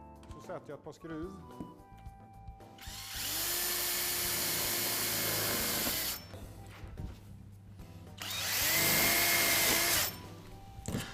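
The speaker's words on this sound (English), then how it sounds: "Then I place the outlet at the cut end and fasten it with screws." A power drill whirs in two sustained bursts of a few seconds each, driving screws into a rain pipe outlet, loud and close, with scraping and handling noises between.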